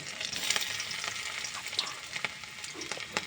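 Garlic, ginger, onion and chili frying in hot oil in a kadai with panch phoron, a steady close sizzle with scattered crackles and pops and a few scraping stir sounds, no voices.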